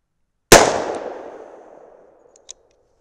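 A single .357 Magnum test load fired from a Ruger GP100 revolver, one sharp loud report with a long fading tail, then a faint distant metallic tick about two seconds later.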